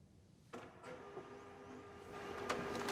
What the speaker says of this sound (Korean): 이때 프린터에서 뭔가가 인쇄되어 나옵니다.